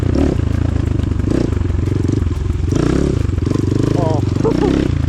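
An RXB 250L enduro motorcycle ridden hard, its engine droning loud and close with rattling clatter, shifting pitch as it works through the gears.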